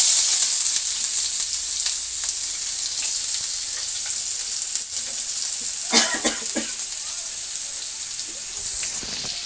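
Dried red chillies, bay leaves, chopped garlic and onion crackle in hot oil, a close, continuous sizzle with a brief louder spatter burst midway and no speech.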